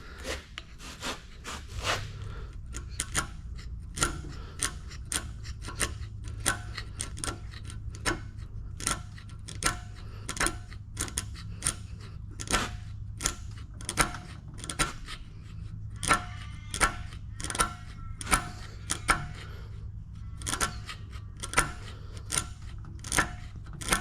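A hand scraper works a ridge on a Bridgeport milling machine's cast iron way, giving sharp, rhythmic rasping strokes repeated steadily, close and crisp over a low background hum, with no talking.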